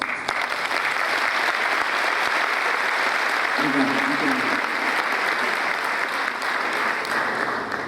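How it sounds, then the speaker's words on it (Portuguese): Large congress audience applauding themselves, a dense, steady wash of clapping throughout with a brief voice rising in the middle. "Por favor, aplauda-se."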